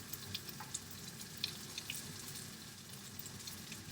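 Garlic, onions and celery fry in a pan for pasta Bolognese, a faint, steady crackling sizzle with scattered small pops throughout.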